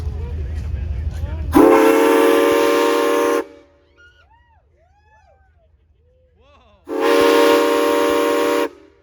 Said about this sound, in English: just in time to hear the magnificent whistle blow